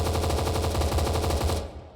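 An HK 416 rifle fires a rapid automatic burst in a zombie shooter game, loud and close, with evenly spaced shots that stop sharply near the end.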